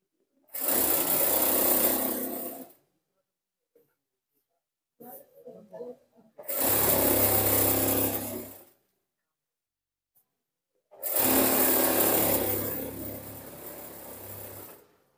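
A sewing machine stitches a half-inch seam on pajamas in three loud, steady bursts of running, separated by pauses with brief handling noises and a little speech.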